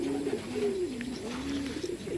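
Racing pigeons coo close by in soft, low, rolling murmurs that rise and fall. A faint chirp joins them near the end.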